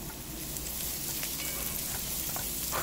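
Steamed garlic cloves sizzling as they hit a heated pot, a steady close crackle and hiss with faint scattered pops, no voices.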